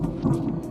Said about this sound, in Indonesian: gemuruh besar tiba-tiba terdengar dari arah barat